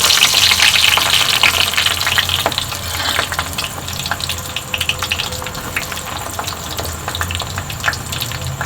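Onion hits hot oil in a silver bowl and fries with a loud, bright crackling hiss that starts strong and settles into a steady sizzle, close up, with no talking.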